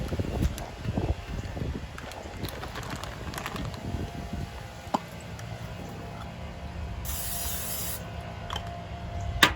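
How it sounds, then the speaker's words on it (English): Cooking spray hisses from an aerosol can into an empty air fryer basket in one steady burst of about a second, heard up close after some handling and rustling in a quiet kitchen. "I need to spray the bottom of the air fryer with a cooking spray"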